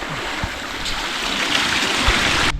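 Waterfall water running through a stream channel in Turtuk, a mountain village in Ladakh, India, heard as a steady broadband rushing that holds evenly for a few seconds, close and fairly loud, with no voices.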